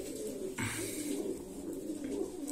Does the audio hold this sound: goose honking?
no